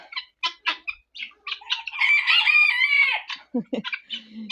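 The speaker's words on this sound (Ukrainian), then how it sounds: "Півні співають" A rooster crows loudly and close, surrounded by quick clucks and short squawks from other chickens.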